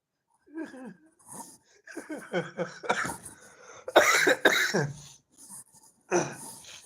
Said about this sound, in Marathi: आणि परत खोकला जास्त येत आहे